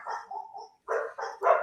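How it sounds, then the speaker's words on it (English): Dogs barking indoors, a quick run of several sharp barks in an irregular burst, fairly close and loud, with no talking over them. "there go my dogs."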